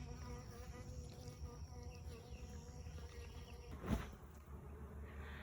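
Honey bees buzz steadily in an outdoor bee yard on a sunny day, a dense insect drone holding throughout with one brief louder swell near the end.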